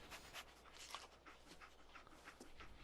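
Dogmeat, the dog companion in Fallout 4, panting rapidly and faintly in quick rhythmic breaths, with soft shuffling underneath in an otherwise quiet game scene.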